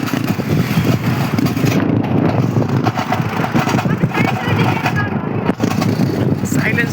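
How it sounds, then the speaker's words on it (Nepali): A scooter engine runs steadily close by with a damaged, rattling silencer, a continuous rough low drone throughout while people talk over it. "हाम्रो स्कुटीको आवाज"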